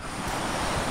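Surf washes onto Surfside Beach in Texas as a brief, steady roar of waves mixed with gusting wind buffeting the microphone.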